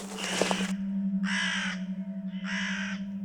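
A large crow perched on a house roof gives three harsh caws, each a drawn-out rasp separated by short gaps, fairly close and clear over a steady low hum.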